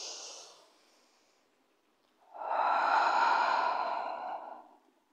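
A slow breath taken in during a Pilates exercise: a faint exhale trailing off, a pause, then a long, clear, close inhale lasting about two seconds with no talk over it.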